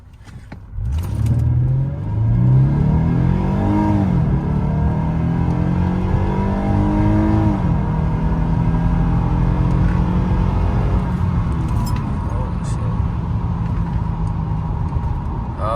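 Lexus GS350 AWD sedan in poor mechanical condition accelerating hard from a stop, its engine note rising through several gear shifts as it climbs steadily and loudly for about fourteen seconds, heard from inside the cabin.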